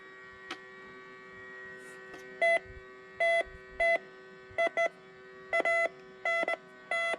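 A cheap Radio Shack metal detector gives short electronic beeps, about a dozen spaced in irregular bursts, some single and some in quick pairs, loud and close above a faint background hum.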